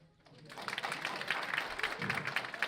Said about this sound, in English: Hand clap.